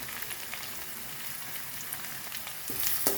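Green chillies, curry leaves and turmeric frying in a pan for cabbage rice, giving a steady, moderately loud sizzle with a few sharper pops near the end and no talking.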